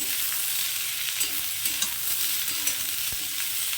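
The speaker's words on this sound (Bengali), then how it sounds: "একটু এদিক ওদিক করে নাড়াচাড়া করে সব একই সঙ্গে দিয়ে দেবো ডিম চালু দিয়ে দিলাম" Egg and potato stirred and frying in a pan with beans, a steady sizzle under scattered scraping and clacking of the spatula, close and moderately loud with no talk.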